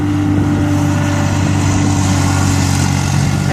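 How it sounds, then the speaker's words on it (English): Skid steer loader engine running steadily nearby outdoors during spring cleanup work, a loud continuous droning rumble with no breaks. "Hopefully you can hear me okay over the sound of the skid steer there."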